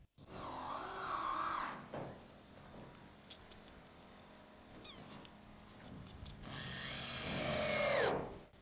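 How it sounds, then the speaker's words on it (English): A circular saw with an aluminum blade cuts metal roof tile in two loud bursts, the first about two seconds and the second about two more, separated by a quieter stretch with faint clicks and handling noise. "I also tried cutting with a circular saw with an aluminum blade that works"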